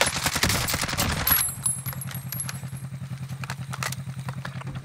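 A vehicle driven in Call of Duty Warzone starts under a loud burst of gunfire, then settles into a steady, rhythmic engine putter, moderately close.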